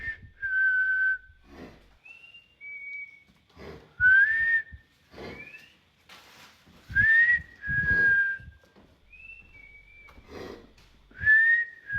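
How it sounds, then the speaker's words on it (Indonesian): A person whistles inside an eerie abandoned laboratory room, giving short melodic phrases and rising slides in bursts with pauses between, close and fairly loud, with faint shuffling and footsteps underneath. "Kayak ada yang ngikutin siul gua di sini"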